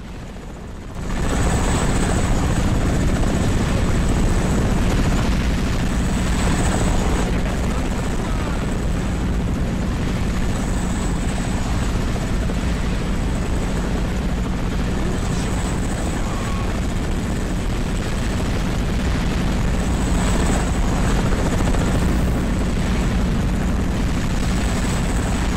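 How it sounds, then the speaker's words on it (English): A helicopter in the video game Crysis roars steadily up close, its rotor thumping and engine whining without a break, with a voice talking faintly underneath. "That helicopter got a vendetta."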